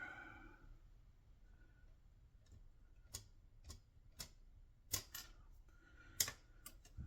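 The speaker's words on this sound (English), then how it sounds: "what I'll do is cut this piece to length here" Side cutters snip jewelry wire to length for a pendant, making a series of small sharp clicks spaced irregularly, close and quiet against a silent background.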